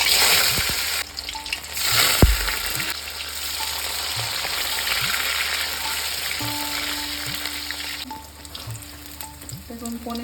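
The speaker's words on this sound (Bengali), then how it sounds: "এবার পনিরটা হালকা করে ভেজে নেব।" Small cubes of paneer fry in hot oil in a pan for an aloo paneer dalna, a steady close sizzle and crackle with a few faint clinks of utensils, no talking.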